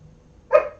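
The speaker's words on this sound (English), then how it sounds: "He's barking at the door." A single short, sharp bark from a pet dog at the door rings out after a quiet moment, close and fairly loud.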